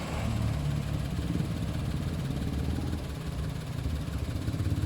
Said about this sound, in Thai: เครื่องยนต์ 3 สูบจะเดินเดินเบามีอาการสั่นอย่างนี้เป็นธรรมชาติเลยนะครับ